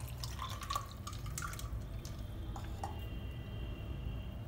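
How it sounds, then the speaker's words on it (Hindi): Sweet lime juice pours into a glass holding ice cubes, black salt, roasted cumin powder and sugar, giving a steady close trickling, dripping stream under a faint background hum. "अब ये मौसमी का जूस इसमें डाल लेते हैं"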